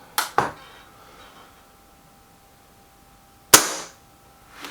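A BSA Defiant air rifle firing pellets, with two sharp, snappy shots close together at the start and a third loud crack later. A faint quiet stretch lies between them.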